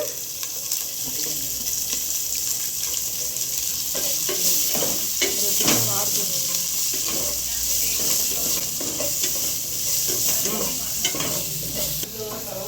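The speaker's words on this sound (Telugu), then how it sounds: "ఇది మంచి ఫ్రై అవ్వాలి ఆనియన్స్ ఇట్లా సన్న సన్న స్లైసెస్ అయితేనే బాగుంటుంది" Thinly sliced onions frying in oil in a pan, with a continuous bright sizzle and repeated stirring scrapes throughout, close and steady, with no voices.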